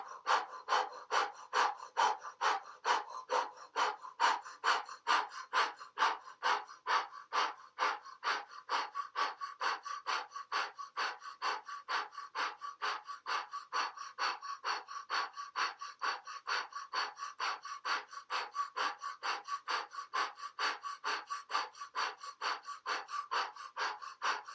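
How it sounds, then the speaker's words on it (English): Rapid, rhythmic breath of fire in Kundalini yoga, forceful breaths pumped through the mouth at a steady fast pace, close and continuous for the whole stretch with no talking. "So we're doing breath of fire through the mouth."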